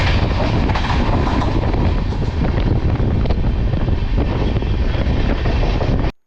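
Cholan Express train running from Chennai Egmore toward Melmaruvathur, a loud continuous rumble and rush of wind across the whole recording with no let-up until an abrupt cutoff.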